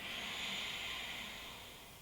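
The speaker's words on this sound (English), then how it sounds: "Take a nice deep breath in, up and back, and exhaling." A deep, slow exhale during exercise, a soft airy breath that fades gradually, heard close and alone.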